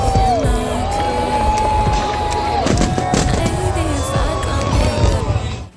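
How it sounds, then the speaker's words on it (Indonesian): A fireworks show after the Formula 1 race in Singapore, with repeated booms and crackling bursts over a cheering crowd, while music plays loudly in the background. "Dilanjuti dengan pertunjukan kembang api yang keren banget ini"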